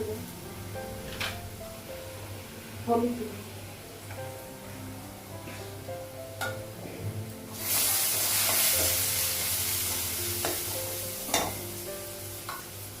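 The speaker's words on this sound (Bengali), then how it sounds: "আর শুকনো লঙ্কা পেঁয়াজ লাগাবো" Dried chillies and onion frying in hot oil at home crackle and clatter with spoon stirring, then erupt into a loud, sustained sizzle that hisses on for several seconds with occasional utensil knocks, close by.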